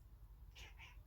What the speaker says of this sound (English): She's on the window ledge and she's making weird noises at the birds.